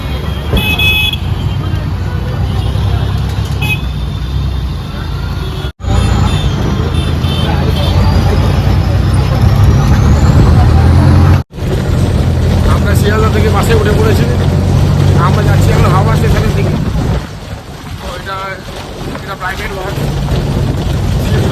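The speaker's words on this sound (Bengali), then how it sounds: "বাসে করে আমরা এগিয়ে চললাম হাওড়া স্টেশনের দিকে" City bus ride toward Howrah station in Kolkata, a loud engine drone and rattling cabin with occasional horn toots and passing traffic, while a voice talks over the noise.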